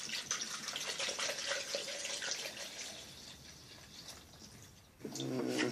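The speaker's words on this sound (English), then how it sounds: "fill the blender at least halfway with some water. So, I have a jug of water here. And we'll fill this halfway." Water from a jug pours into a blender for homemade ginger-limeade, a steady splashing stream running for several seconds, then deepening and swelling louder as the jar fills near the end.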